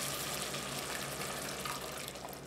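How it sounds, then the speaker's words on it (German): Strained tomato passata poured into a pot over beef rouladen, a soft continuous liquid rush and splatter lasting a couple of seconds, close and fairly quiet, with no talking. "Und jetzt gießen wir das auf mit passierte Tomaten."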